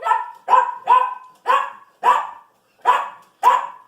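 A chihuahua barks seven times in a steady, evenly spaced series, each bark sharp, close and loud, with short silent gaps between them and no other sounds.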